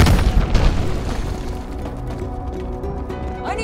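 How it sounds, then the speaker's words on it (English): A grenade goes off in Call of Duty: Black Ops Cold War, a loud, close boom at the start with a deep rumble that slowly fades, followed by scattered battle noise and a faint metallic rattle near the end. "Grenade!"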